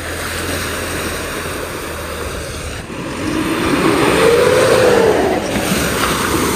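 An Isuzu V-Cross pickup fording a small river while off-roading, a constant loud watery rush and engine drone that swells midway as the truck pushes through, with a rising engine note.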